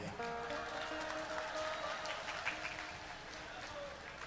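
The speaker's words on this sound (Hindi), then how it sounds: "फिर भी ताली ठोक रहा है" At a Bageshwar Dham Sarkar religious gathering, an audience claps in a faint, steady patter that runs the whole way through, mostly masked by a voice speaking over it.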